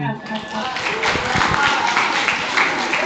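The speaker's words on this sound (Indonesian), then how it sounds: "Tepuk tangan." Junior high school students in a hall clap together after a short pause, a loud burst of applause building and holding to the end, with a voice faintly heard at the start.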